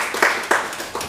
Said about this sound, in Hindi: आप लोग स्वागत में उनके लिए तालियां बजाएं और सम्मान करें